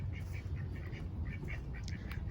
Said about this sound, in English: the ducks were not boring